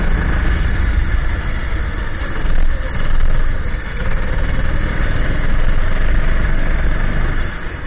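A racing car engine in a racing video game drones steadily under throttle for the whole stretch, a loud mid-pitched hum that swells slightly now and then, with no other sound on top.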